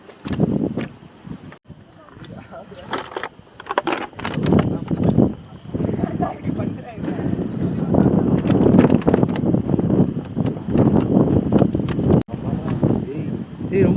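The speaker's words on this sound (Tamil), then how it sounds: "இது ரொம்ப தள்ளுதுடா காத்து." Strong gusting wind buffets the microphone on an exposed stretch of the Parvathamalai mountain trek, roaring loud and steady under a voice.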